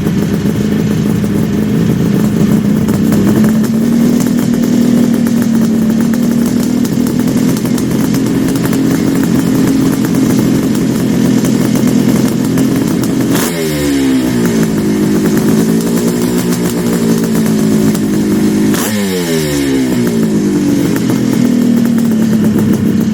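Kawasaki H2 motorcycle engine idling loudly with a buzzy two-stroke rattle, then blipped in two sharp revs that rise and fall back to idle, close and continuous.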